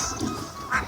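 A short burst of domestic duck quacking, a call or two against a rushing, noisy outdoor background at Nikli haor wetland in Kishoreganj, Bangladesh.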